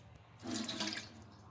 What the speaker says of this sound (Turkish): Bu şekilde tohumlarımızı süzgecin içerisine döküyoruz.